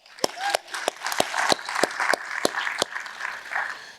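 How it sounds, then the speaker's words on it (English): Audience at a real estate business talk gives a short round of applause: scattered distinct claps over a steady background patter, moderately loud and close, with no speech. "So let's give them a quick round of applause."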